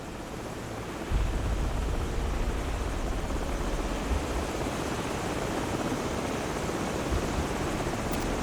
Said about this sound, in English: we've got enemy helos approaching from the northwest and southeast